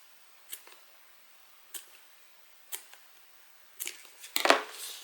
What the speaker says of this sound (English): you want to go about maybe like 1/4 of an inch and just make little snips